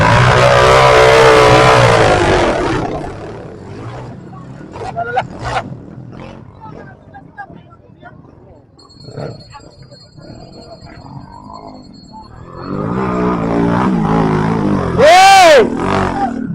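Dirt bike engines on an enduro moto trail rev loudly at the start, then sputter and idle while people shout, and close out with rising and falling whines of high revving.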